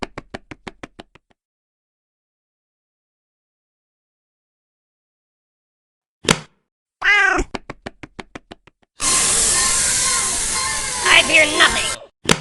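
A cartoon cat meows and hisses in the card game Exploding Kittens, short sharp effects between silences and a burst of loud noisy sound near the end.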